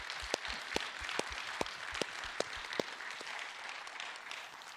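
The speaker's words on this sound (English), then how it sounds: "let's give them a round of applause" A church congregation at a worship service gives a round of applause, quiet and sparse, with a few sharp individual claps standing out over a soft spread of clapping and little talk.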